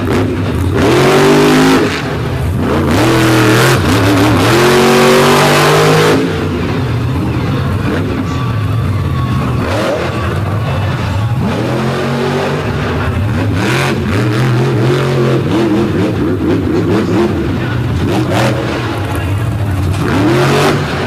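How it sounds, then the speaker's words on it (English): Monster truck engines roar and rev loudly in a freestyle show on the All-Star Monster Truck Tour, with sustained rising and falling revs and bursts of acceleration across an arena, a commentator talking faintly under the engine noise. "a pair of families of monster trucks doing battle for valuable season points here on the All-Star Monster Truck Tour"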